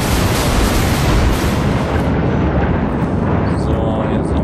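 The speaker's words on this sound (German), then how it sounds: "Ich muss mal kurz hier wieder ein paar Blitze." Lightning strikes in The Universim, a god-game, land as a loud, broad rumbling boom that fills the moment and slowly thins out toward the end.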